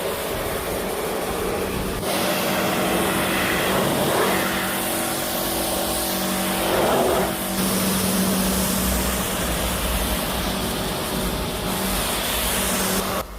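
A pressure washer rinses dirt off a Honda HR-V, a loud continuous hissing spray up close with shifting tone as the jet moves across the bodywork, no talk.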